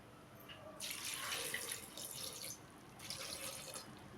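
Water runs into a pressure cooker holding dal for menthi kura pappu, a soft rushing pour that swells and eases in two bursts, faint and near, with no talk.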